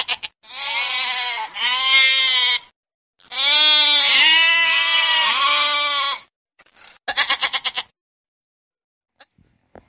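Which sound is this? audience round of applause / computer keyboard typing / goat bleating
goat bleating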